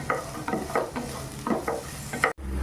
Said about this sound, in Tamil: இந்த பிரண்டை நல்லா வந்து வறுபடணும்